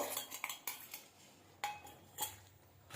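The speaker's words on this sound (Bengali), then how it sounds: "মাংসটা নেড়ে নিলাম" Chicken meat stirred in a pot for a poultry curry: a few quiet spoon scrapes and metallic clinks against the pot, spaced irregularly and close to the listener, with no talking.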